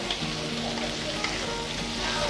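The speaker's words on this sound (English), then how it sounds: "And we're going to brown these off again." Peeled prawns and scallop pieces browning in a paella pan for seafood paella, a steady close sizzle with light crackle running throughout, faintly busier toward the end.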